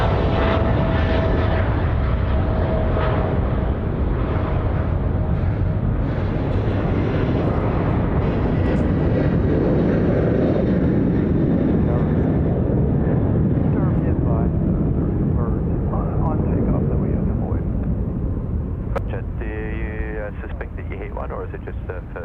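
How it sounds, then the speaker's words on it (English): A FedEx cargo jet roars loudly down the runway at Sydney Airport and climbs away, its engine noise swelling then slowly fading, while voices speak over it near the end. "FedEx now rolling out. Whee! Get airborne."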